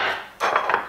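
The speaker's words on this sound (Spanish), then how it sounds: "Y de nuevo lo batimos suavemente" Coconut sponge cake batter gently beaten in a bowl, giving a short run of soft clinking and scraping strokes that grow louder after a brief pause, close by and with no voices.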